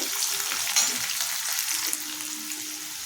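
Onion pieces frying in oil for upma make a strong, steady close-up sizzle with light stirring movements throughout.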